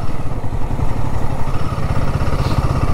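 Motorcycle engine runs loud and close on a ride to Agaya Gangi Waterfalls in the Kolli Hills, a rough, rapid, throbbing putter throughout.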